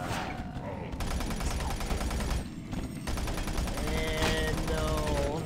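A machine gun in the game Doom 3 fires in sustained rapid bursts, loud and dense, with brief pauses between strings of shots and other game sounds mixed in.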